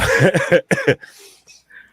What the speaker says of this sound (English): I have a bit of dry cough.